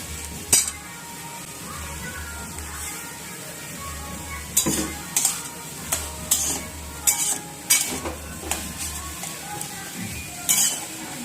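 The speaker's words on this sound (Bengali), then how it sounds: "ভালো করে ফ্রাই করে নিতে হবে দেখো পেঁপে ভাজাটা এরকম হবে" Papaya frying in a pan, a steady sizzle punctuated by repeated clinks and scrapes of a utensil stirring against the metal, coming in irregular bursts through the second half.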